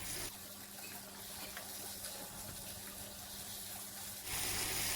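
Rinse water from a mortar is poured into a sizzling crocodile-meat stir-fry in a hot pan, a soft wet hiss and splash under a faint background of frying, ending in a louder burst of sizzle.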